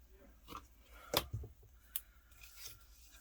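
Scissors make a few quiet, sharp snips while cutting paper craft material at an angle for a mini album, with short pauses between cuts.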